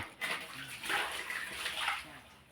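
Water being poured out and flowing, a close splashing gush in a few surges over a couple of seconds, with a voice faintly in the background.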